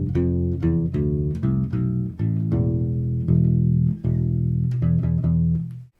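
Deep, rounded plucked notes from a U-bass carry a new melodic passage of a main theme, a steady sequence of sustained bass tones played up close, alone without voices.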